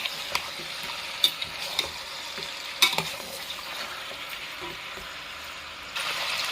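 Chicken frying with turmeric in a pan for a spicy chicken sambar gives a soft, steady sizzle, with a few sharp utensil clinks and scrapes from stirring and a louder burst of frying near the end.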